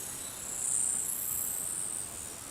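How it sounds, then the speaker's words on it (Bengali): Crickets chirp near Mrudubandha waterfall in Daringbadi as a dense, steady high-pitched trill, loud and continuous throughout, with no voices. "কি ঝিঝি পোকার ডাক"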